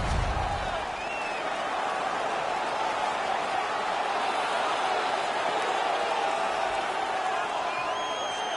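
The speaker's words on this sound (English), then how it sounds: "The home crowd is ecstatic." Home crowd in an ice hockey video game on PS4 keeps up a steady, dense wash of cheering and noise, with commentary talk running over it.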